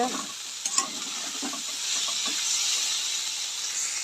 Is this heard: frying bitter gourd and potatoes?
yes